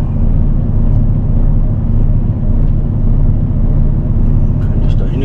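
Steady low engine and road rumble from a car driving and turning right, continuous and fairly loud throughout, with no pronounced changes.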